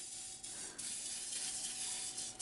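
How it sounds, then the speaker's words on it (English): Trader Joe's coconut oil cooking spray hissing from an aerosol can onto a mini waffle maker, a soft continuous spray of about two seconds with slight pulses, quiet and close. "So what I like to do is I spray it with this coconut oil spray."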